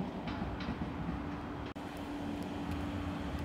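A train rolls into Den Haag Centraal station, a steady low rumble with a sustained hum and faint rail noise throughout, fairly distant and continuous with no talk.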